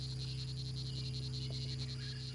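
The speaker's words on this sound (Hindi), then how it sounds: "इसने दुश्मन की ओर मुंह करके ऊंची आवाज में बार बार टर्राना शुरू कर दिया" A frog croaks loudly and repeatedly in a jungle river setting, with a steady rhythmic pulsing call close by over a constant buzzing chorus of insects or other frogs, with no voices.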